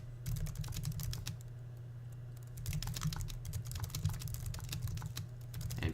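Continuous keyboard typing on a computer during a Java programming lesson in Eclipse, with rapid clustered keystrokes over a steady low hum, close and fairly quiet throughout.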